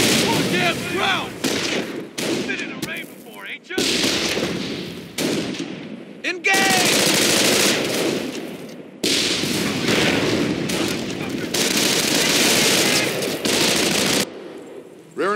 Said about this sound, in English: The Krauts are taking pot shots at whatever they can see.